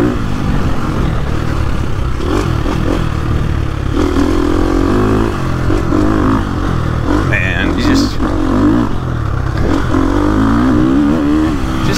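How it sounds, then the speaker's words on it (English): A 2022 Gas Gas MC350 dirt bike engine revs hard and climbs repeatedly, loud and close with a buzzy, rising tone over twelve seconds, with clattering and mechanical noise along with the engine. "that engine just playful. And it revs out so nice."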